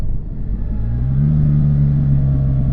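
A BMW R1300GS motorcycle engine revving on a road in the French Alps, a loud, close, steady rumble that swells into a rising held drone, with no talking.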